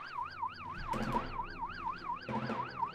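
Police car sirens wail in Silent Hill 2, a steady rising-and-falling tone repeating about twice a second at moderate distance, with a couple of short muffled thumps underneath.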